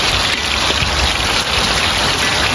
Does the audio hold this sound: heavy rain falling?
yes